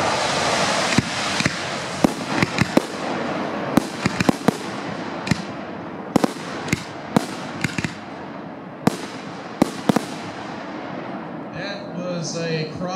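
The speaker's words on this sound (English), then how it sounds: "Next up, we have a 4-inch Vulcan Special Multicolor Go-Getter Mine." A 4-inch Vulcan Special Multicolor Go-Getter Mine firework sends out a fast string of sharp, loud cracks and pops at irregular intervals, echoing outdoors from a short distance before the bursts thin out.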